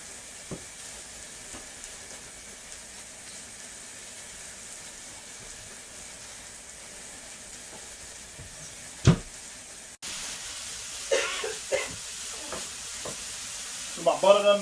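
A steak sizzles in a frying pan seasoned with salt and pepper, a steady low hiss running throughout, broken by a few sharp clacks and, toward the end, louder bursts of spattering and stirring as the frying grows more intense.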